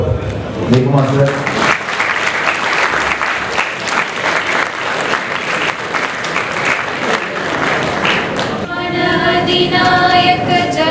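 Sustained applause from a crowd at a Confederation of Indian Industry G20 youth business gathering, loud and continuous through the middle, with brief tonal voice or music passages at the start and end.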